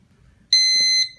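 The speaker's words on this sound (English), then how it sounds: "Once it's in, it has a beep" A Lexon In-Out alarm clock gives a single high electronic beep lasting about half a second after a AAA battery is inserted, close and clear with near silence around it.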